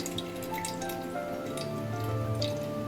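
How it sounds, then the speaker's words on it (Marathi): Sweet tamarind water with a little red chili powder is strained, giving a steady dripping and trickling of liquid, fairly close and continuous with faint clinks, and no talking. "आता ते पाणी आता आपण छानून घेत आहोत"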